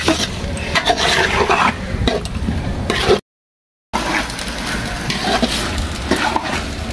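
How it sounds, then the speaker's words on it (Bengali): Meat stirred and fried with ginger, garlic and onion in a pan: a close, loud sizzle with scraping and clinking of a spatula against the pot, broken by a brief full silence midway before the frying and stirring resume. "মাংস দিয়ে আদা রসুন পেঁয়াজের সাথে মাংসগুলো ভালোভাবে নাড়িয়ে নেব"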